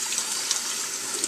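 Running water rinses a furry dog during a bath, a steady close splashing gush that flows without a break.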